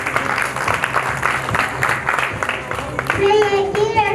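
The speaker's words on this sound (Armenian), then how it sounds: "դիմավորեք ծափարություններով" Audience applause at a school-style performance event, a crowd clapping steadily with a voice heard near the end and a few rising tones at the close.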